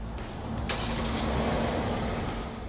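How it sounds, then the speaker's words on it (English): A Kia car's engine, started remotely with the key fob, runs with a steady mid-pitched idle hum and a faint brief click near the start, heard alone without talk. "now you know how to remote start your car"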